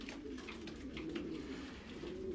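Racing pigeons in a Belgian loft give a run of low, burbling coos, several birds overlapping near at hand in a steady murmur with no speech.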